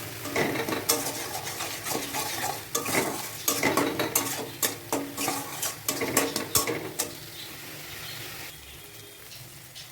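Spice paste of cumin and chili powder is stirred and fried in a pan, with a spoon scraping and knocking rhythmically against the metal over a sizzle; the stirring stops near the end, leaving a quieter hiss.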